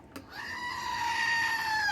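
A goat lets out one long, wavering bleat, loud and close, rising after a brief rustle and holding steady to the end with no talk.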